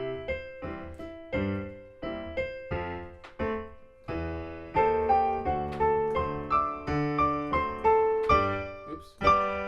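Piano plays the closing bars of a section of Scott Joplin's ragtime piece The Entertainer, a bouncy stream of chords and melody notes heard up close but fairly quietly.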